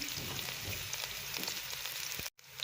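Onions sautéing in about four tablespoons of hot oil for potato patties give a steady, close sizzle with fine crackling pops throughout, briefly cut off near the end before resuming.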